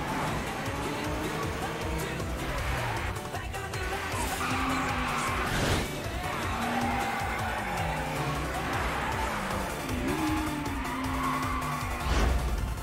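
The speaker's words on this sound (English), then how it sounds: "Drifting, huh?" Race cars drifting through a mountain pass turn in an Initial D race, with sustained tire squeal and skidding over steady engine roar, loud and continuous, rising again near the end.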